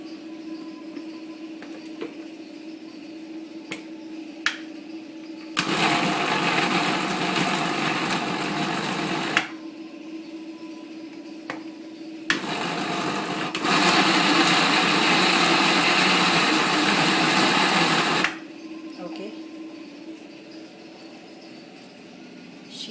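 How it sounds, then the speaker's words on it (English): Keema, minced meat, being ground in an electric mixer grinder: two loud whirring motor bursts of a few seconds each, separated by a pause with faint background noise, close and without talk. "now she is grinding it."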